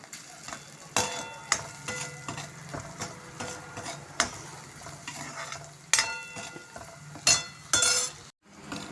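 Salt and turmeric hitting hot oil in a pan for a tempering, a close sizzle and fry under repeated stirring scrapes and metal clinks against the pan, with a brief silent gap near the end.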